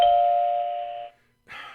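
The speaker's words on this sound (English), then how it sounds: "Okay, you get a ding on that one, okay?" A single clear electronic ding rings out and fades over about a second, followed by a brief second chime after a short silence.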